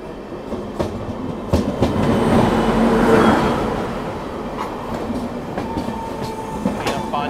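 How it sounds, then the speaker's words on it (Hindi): The Satluj Express passenger train from Mohali toward Ferozepur runs close by with a loud, sustained rumble and rhythmic clickety-clack of wheels over rail joints, swelling to a peak as the coaches pass, then easing slightly. "आज ये सासनगर मोहाली से बनकर चली है और फिरोजपुर की तरफ जा रही है सतलुज एक्सप्रेस"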